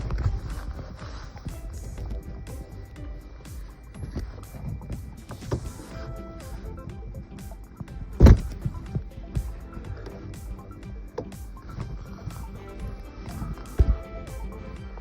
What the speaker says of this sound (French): Regardez mon kayak. Je fais du 360 les gars, attention.